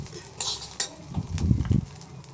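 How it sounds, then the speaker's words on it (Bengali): Rice for basanti pulao is stirred in a pan over a low gas flame, with light scraping and metallic spoon clinks against the pot and a soft faint sizzle, close and without talk. "10 মিনিট গ্যাসের ফ্লেম লো রেখে হালকা করে ভেজে নিচ্ছি"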